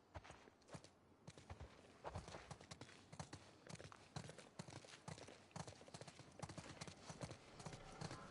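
Horse hooves clip-clop steadily in The Last of Us Remastered, a rhythmic series of close, fairly loud hoofbeats from horses on patrol near a ski lodge, with faint voices underneath.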